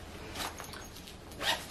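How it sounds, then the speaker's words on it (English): A small zipper on a bag's front pocket being pulled open and shut, two soft short rasps, close and quiet with no talking. "it has two little zipper pockets."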